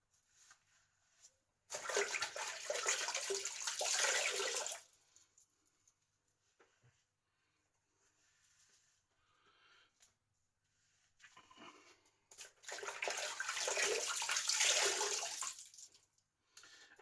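Tap water runs in two separate bursts of about three seconds each while shaving lather is rinsed off a face. The splashing is close and moderately loud, with near silence between the bursts.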